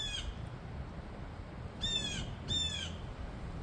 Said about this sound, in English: And I'm telling, it sounds like a big bird.